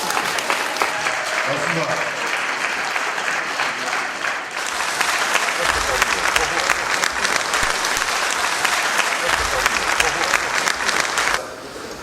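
A political campaign rally audience breaks into applause that swells into a sustained, loud ovation after a short spoken word, then cuts off near the end.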